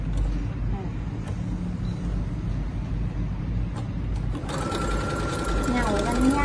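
A Brother sewing machine stitching a child's bucket hat starts up partway through with a steady, buzzing whir close by, while a voice talks over the room noise.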